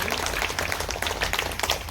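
An audience at a Hindi-language commemorative gathering claps together, a dense, even patter of applause that carries on steadily throughout.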